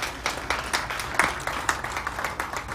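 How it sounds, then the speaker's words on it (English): An audience claps for a scientist at a medical research awards ceremony, a brisk patter of individual claps, close and moderately loud, with no one talking over it. "Let's give her a hand of applause"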